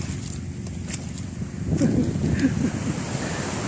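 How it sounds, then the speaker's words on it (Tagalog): Steady surf wash of small ocean waves with wind rumble, swelling slightly midway; distant waves roll continuously with no talking. "maliliit na po yung alon"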